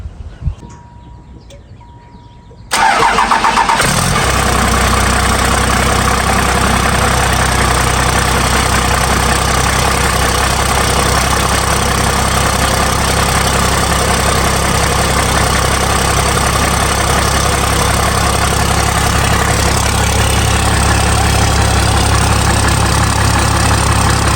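A 12 valve Cummins diesel engine with its valve covers off cranks and fires up, then settles into a loud, steady, rumbling idle that continues unbroken for over twenty seconds.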